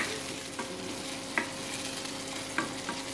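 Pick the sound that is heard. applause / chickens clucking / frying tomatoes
frying tomatoes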